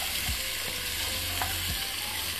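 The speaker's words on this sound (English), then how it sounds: "Saute this, add the vegetables in." Vegetables sautéing in a pot with beef for a slow-cooked roast, a steady broad sizzle throughout with a few soft scrapes of stirring, close and fairly loud with no talk.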